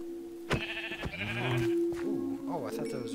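Sheep bleating in the Minecraft video game, a wavering bleat heard alongside a player's voice talking over it.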